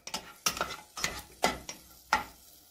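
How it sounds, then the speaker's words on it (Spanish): Sliced onion cooking in a pan, heard as a steady low sizzle punctuated by five sharp scraping stirs spaced about half a second apart, close and moderately loud with no talking. "Vamos a poner unas rodajitas de cebolla para sofreírla."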